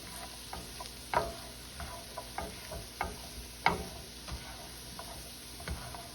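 Green beans cook in bacon fat with onions and garlic in a pan, giving a soft steady sizzle with scattered light ticks and pops as the food is stirred now and then.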